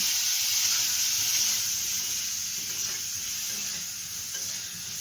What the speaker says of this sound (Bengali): ফুলকপিটা দিয়ে দিল ফুলকপিটা একটু ভেজে নেবে